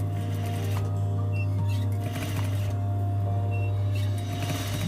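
A sewing machine fitted with a zipper foot runs steadily while beads are stitched onto dress fabric, producing a continuous low mechanical hum with a fast even needle rhythm and a few faint clicks.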